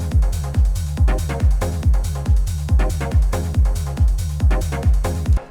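Hardgroove techno drum pattern locked tightly to the grid: punchy kicks at an even pulse with hats and percussion ticking between, loud, dry and mechanical, running alone before a sudden stop.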